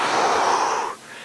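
One deep breath drawn in during a breathing drill, a close, airy rush that is steady for most of a second, then drops off abruptly and leaves quiet.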